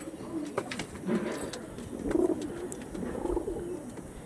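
Soft pigeons cooing in a few low, rounded bursts, close by, with faint background noise and no talking.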